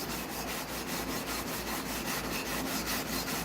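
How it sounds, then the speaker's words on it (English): Strokes of 150 grit sandpaper across a wooden guitar fretboard with a 16-inch radius make a continuous, even scraping rub, with quick back-and-forth passes close up and no voices. "Yeah, I'm sanding pretty evenly."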